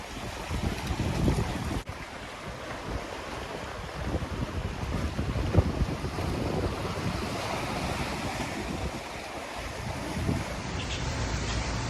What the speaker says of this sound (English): Nice sea breeze.